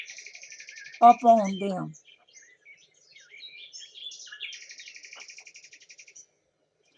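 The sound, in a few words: birds singing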